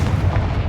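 A Confringo explosive spell in Hogwarts Legacy lands as a short, heavy boom with a dense low rumble, loud and close, with no voices.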